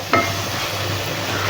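Asafoetida powder being stirred into a simmering bitter gourd tamarind curry, with one sharp scrape of a spoon against the pot at the start, then a steady sizzle and bubbling throughout, close and moderately loud with no talking.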